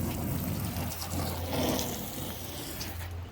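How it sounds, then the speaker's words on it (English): Water runs steadily and drains off a boat cover, a continuous close splashing, trickling wash with a low hum underneath, no voices. "It all seems to be draining out of here okay."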